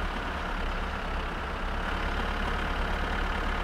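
A tractor engine idling in My Summer Car, giving a steady, dense, low rumble that holds constant and close with no breaks.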